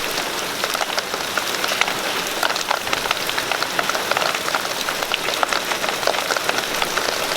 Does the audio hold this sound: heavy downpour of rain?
yes